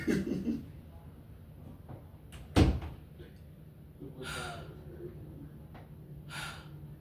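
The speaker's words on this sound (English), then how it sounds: "Close my door." A door swings shut with a single sharp thud in a quiet room, followed by faint background noise and brief breathy sounds.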